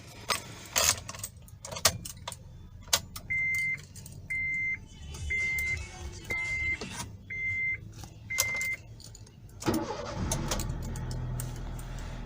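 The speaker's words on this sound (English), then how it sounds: "So now just let us start the vehicle. This is the key I've shown you before as well. Let's just start the vehicle." A 2017 Honda Amaze S petrol car started with the key: keys jangle and click, a series of six regular chimes beep from the dashboard, then the engine cranks and settles into a steady idle hum.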